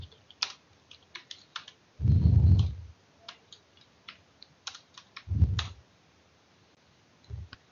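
Someone types a command on a computer keyboard, quick light key clicks in short irregular bursts nearby, broken by a couple of low thumps.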